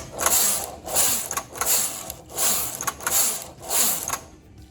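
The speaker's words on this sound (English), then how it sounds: "place your yarn back into the feeder of your carriage, move your cams back into normal knitting, which is 2, and knit" A domestic knitting machine carriage knitting rows in normal knitting mode, giving a rhythmic mechanical clatter and whoosh of about five steady passes, close and alone with no talk.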